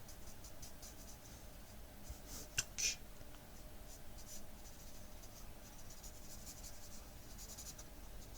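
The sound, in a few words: alcohol marker gliding on paper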